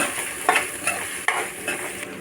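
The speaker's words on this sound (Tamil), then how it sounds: "அதையும் அதில் சேர்த்துக்கிறேன் இதை நல்லா வதக்கிக்கலாம்" Small onions sauté in hot oil in a pan for Chettinad mutton sukka, giving a steady sizzle broken by a few scraping stirs of a spoon.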